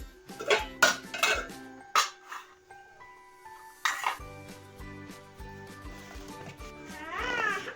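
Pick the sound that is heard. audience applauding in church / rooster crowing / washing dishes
washing dishes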